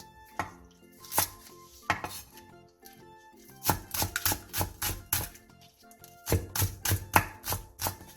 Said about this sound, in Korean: 대파 2분의 1개를 길게 반으로 가른 뒤 쫑쫑 썰어주세요.